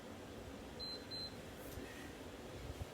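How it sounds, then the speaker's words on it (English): A workout timer buzzer sounds as two short, quiet electronic beeps in quick succession, heard faintly over a low room hum during a home exercise session. "grab one weight when that buzzer goes off"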